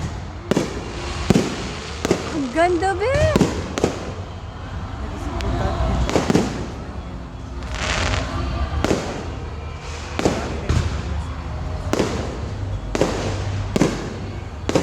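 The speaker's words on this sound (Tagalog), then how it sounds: "Ang daming fireworks, ah!" Fireworks burst repeatedly, sharp cracks and booms going off at irregular intervals, with excited voices and a whistling rocket rising early on.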